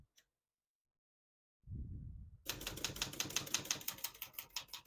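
Rapid clacking keystrokes on a vintage Olivetti Lettera 33 portable typewriter start after a low mechanical rumble, a steady run of crisp close-up strikes.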